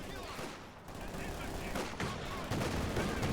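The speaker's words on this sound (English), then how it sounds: "The Ace charges forwards, unleashing a fury of flak fire on the retreating shock troopers." Flak gunfire from a World War II strategy video game, Company of Heroes 2, rattles in rapid, dense bursts at moderate loudness amid battle noise, with a voice talking underneath.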